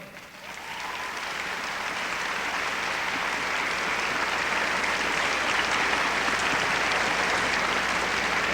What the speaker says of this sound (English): Ladies and gentlemen, the producer of our show, how about a big hand for Dee Riley?